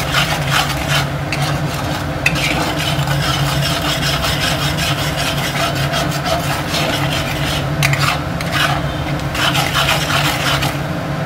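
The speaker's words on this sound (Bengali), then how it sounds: "মশলাটা দিয়ে ভালো করে ভেজে নেব।" Spices for egg tadka fry in a pan while being stirred, giving a continuous scraping rasp of the spatula over a steady sizzle, close and loud for the whole stretch.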